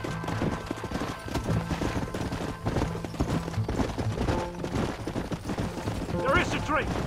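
Horse hooves pound in Red Dead Redemption, a rapid rhythmic clip-clop of galloping under in-game shouting voices, with a background of game sound effects and a few sharp bangs.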